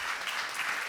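Audience applause at the Asia House poetry slam, a dense, steady wash of clapping from a crowd that fills the whole short moment without a break.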